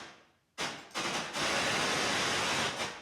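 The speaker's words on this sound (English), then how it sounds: "So it sends it here, so it gates the white noise." Burst of white noise switched on and off by a noise gate keyed from a snare drum in a drum mix, starting after a short silence with quick chopped pulses, then opening into a steady, loud hiss.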